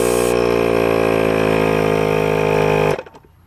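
An ARB air compressor runs with a loud, steady mechanical hum while refilling its manifold, then shuts off abruptly, leaving near silence.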